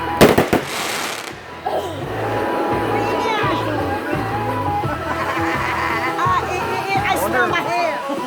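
Fourth of July fireworks and firecrackers burst in a rapid crackling cluster up close, then scattered pops and bangs continue under crowd chatter, whistles and people talking nearby.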